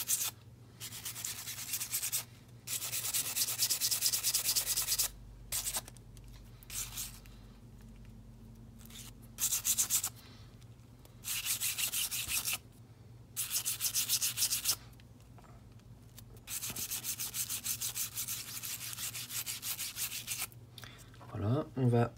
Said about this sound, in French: on nettoie bien, donc on gratte. On va utiliser une petite brosse comme celle-ci en plastique.